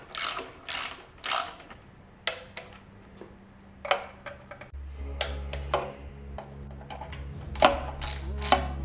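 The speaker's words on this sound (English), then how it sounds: "So I'm gonna get all these torqued down." A ratchet clicks in short rapid bursts while tightening the timing chain cover bolts on a 302/351 Ford engine, the bursts coming close and repeated, with a low hum underneath in the second half.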